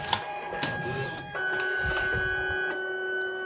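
A Fargo HDP card printer runs its self-test, with whirring motor tones, a couple of sharp clicks early on, then a steadier mechanical hum with a sustained tone, close and alone.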